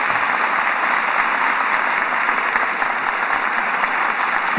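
Studio audience at a 1949 Lux Radio Theatre broadcast applauding the evening's stars, Humphrey Bogart and Walter Huston, with a steady, dense wash of clapping held at even loudness throughout, with no voices over it.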